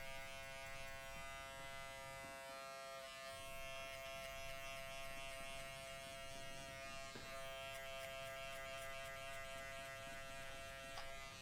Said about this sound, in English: She'll gradually start closing the clipper once she knows that she's not getting any hair.